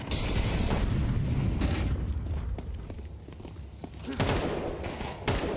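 Pistol gunfire in a Counter-Strike match, a dense burst of shots and booms followed by scattered sharper cracks, loud and close, with a caster's voice talking over the action.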